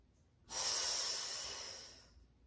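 One long, close exhale during a mat Pilates exercise, a breathy rush that rises suddenly, then fades over about a second and a half.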